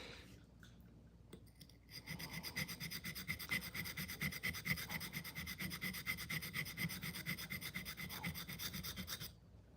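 A steel knife edge is drawn back and forth across a whetstone in quick, even rasping strokes, preceded by a few scattered scrapes and clicks, close and clear with no talk.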